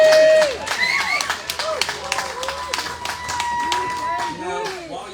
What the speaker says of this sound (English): While y'all are clapping